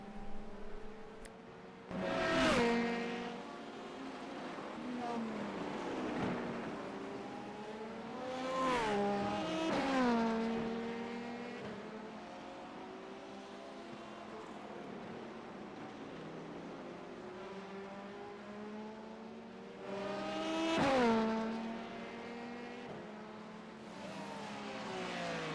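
Race cars in an IMSA sim racing game sweep past on a straight, with three or four distinct pass-bys rising and fading over a continuous engine drone. No voices are present.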